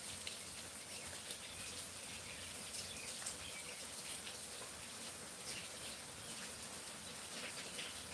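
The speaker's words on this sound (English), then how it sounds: "It's raining right now" Steady rain falls outside a rural home, a soft continuous patter and hiss with faint drips. The sound is quiet and even throughout, with no one speaking.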